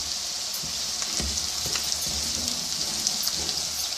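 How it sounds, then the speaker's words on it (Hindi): Cumin seeds and thin julienned ginger fry in hot oil for an aloo turai dish, giving a steady, close crackling sizzle with scattered small pops and no talking. "2 मिनट मैं ज़ीरे को इसके अंदर भूनूँगी।"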